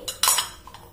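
A small ceramic salt bowl being handled: a few quick, bright clinks and taps of china in close succession, near and alone.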